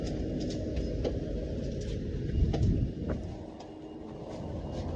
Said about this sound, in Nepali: ट्रेन स्टेसन चाहिँ यही छ